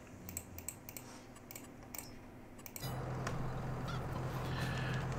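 Chickens in a farm video game, with clucking and honking bird calls over soft clicks, followed by a louder steady ambient wash.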